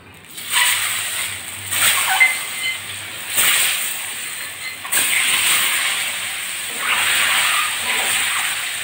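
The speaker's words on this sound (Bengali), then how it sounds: "এবার ছিলে রাখা ডিমগুলো দিয়ে দিচ্ছি।" Peeled boiled eggs dropped into hot oil seasoned with salt and turmeric, a steady loud sizzle and hiss with several sharp bursts of spattering as they fry, no voices.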